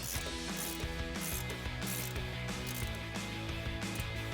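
An 18mm ratcheting wrench tightens a sway bar bolt on a 2019 or later Chevrolet Silverado 1500 during a 3-inch suspension lift install, giving a steady run of quick, close pawl clicks for several seconds.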